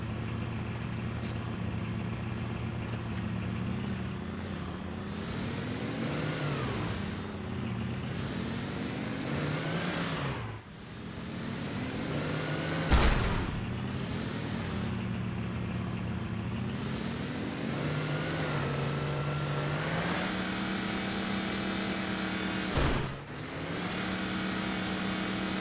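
Warthog vehicle engine in Halo Combat Evolved, a continuous mid-pitched drone that rises and falls as it revs and accelerates, with a couple of sharp thumps along the way, steady and close throughout.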